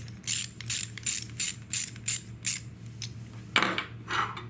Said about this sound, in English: begin to tighten with the wrench